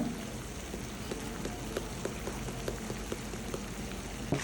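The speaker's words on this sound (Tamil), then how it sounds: "இப்போ தண்ணி பார்த்தீங்கன்னா கொதிக்க ஆரம்பிச்சிருச்சு." Water bubbles in a pot with a soft, steady crackle and scattered pops, no one speaking.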